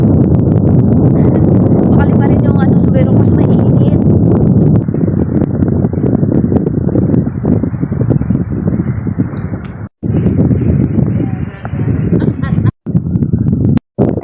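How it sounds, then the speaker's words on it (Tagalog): Loud, roaring gusts of wind buffeting the microphone throughout, with people talking underneath and brief drop-outs near the end. "lakas ng hangin"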